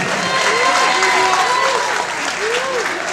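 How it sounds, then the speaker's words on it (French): Steady, dense applause from a crowded audience at a French manga fan afternoon, filling the whole stretch at an even, loud level with a few raised voices and whistle-like cheers rising over the clapping. "je vous prie de vous applaudir à vous"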